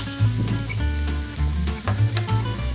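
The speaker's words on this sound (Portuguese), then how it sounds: "A gente refogou rapidamente aqui o nosso peixe." Fish sizzles and spits as it is sautéed in a pan, a steady close frying hiss broken by rhythmic stirring scrapes and bumps every half second or so.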